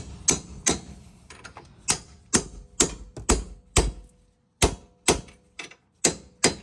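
A hammer strikes a socket held on a bolt while front lowering springs are fitted to a Ford Mustang: about a dozen sharp metallic taps in an uneven rhythm, close and clear, with a short pause near the middle.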